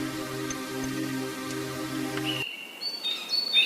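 Birds call over a mangrove forest during a boat ride, with faint chirps standing out late in the clip after a steady tonal hum cuts off abruptly; the chirps are quiet and scattered.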